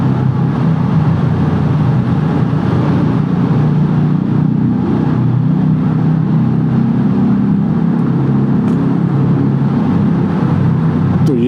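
Several motorcycles including a 650cc bike drone loudly and continuously through a mountain road tunnel, the engine note booming and reverberating off the walls at a steady pitch.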